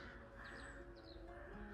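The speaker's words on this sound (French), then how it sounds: "Vous avez plein de corbeaux." Several crows caw in short paired calls around the ruins of a gothic castle in Ireland, faint and somewhat distant over steady outdoor wind noise.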